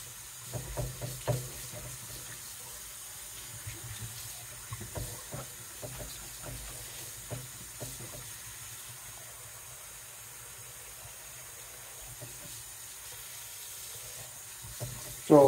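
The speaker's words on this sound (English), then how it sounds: "So we're gonna rinse this out now." Soaked sea moss is rinsed under a running tap. A low, steady water hiss continues throughout, with scattered soft clinks and splashes from handling nearby.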